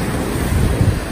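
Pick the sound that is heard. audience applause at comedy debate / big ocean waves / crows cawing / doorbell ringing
big ocean waves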